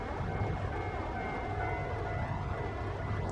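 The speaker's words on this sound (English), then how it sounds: "That was a nice noise, wasn't it, for the level crossing." Level crossing warning bells in the Trainz railway simulator, a steady ringing tone held over a low rumbling train bed throughout.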